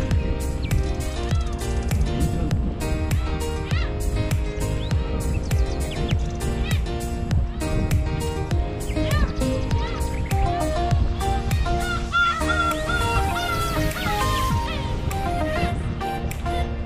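A flock of seagulls crowds close by on the Wolmido lighthouse walk in Incheon. Their squawks overlap in a busy, continuous chorus that grows denser toward the end, over seaside ambience.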